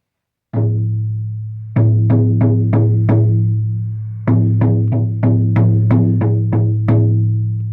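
An 18-inch elk hide hand drum with a four-directions handle struck repeatedly with a deep, booming resonant tone, a single hit followed by two loose bursts of beats, ringing alone.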